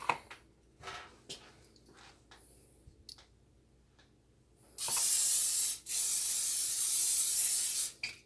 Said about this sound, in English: And we're gonna spray our pan.